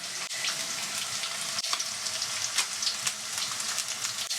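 Garlic, carrots and chicken sizzle steadily in a hot pan, a continuous close hiss with small crackles and a few faint clicks throughout.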